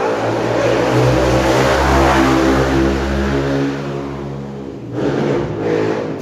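Loud engine with a steady droning hum that swells, holds, then fades as it passes close by, a brief rise following near the end.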